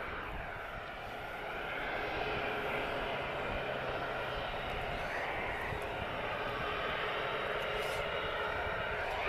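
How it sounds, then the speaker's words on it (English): A Boeing 737-400 classic jet at Lisbon Airport produces a steady, broad engine roar that holds fairly constant at a moderate distance, with no pauses or sharp changes. "so nice to see a 737-400. Classic 737."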